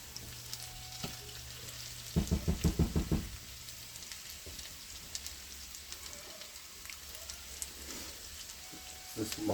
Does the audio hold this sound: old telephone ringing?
no